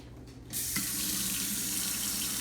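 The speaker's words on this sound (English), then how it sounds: "Kohler faucet." A touchless Kohler kitchen faucet suddenly turns on and water runs steadily into a sink, a constant hiss with no talking.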